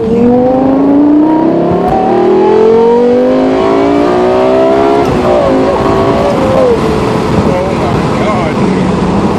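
A loud Lexus LFA engine revs hard under full throttle and climbs in pitch, dropping briefly at each gear change before rising again, continuous and close throughout.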